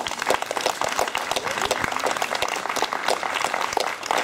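An audience at a Bastille Day ceremony in 2014 gives a warm round of applause, a steady, dense wash of many hands clapping close by throughout.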